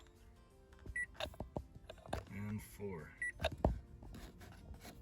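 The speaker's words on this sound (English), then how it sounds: "push and hold the button 4 times until you hear a beep" Two short high electronic beeps from a Mitsubishi Mirage dashboard button, reset for the maintenance reminder light, sound a couple of seconds apart, mixed in with someone talking nearby.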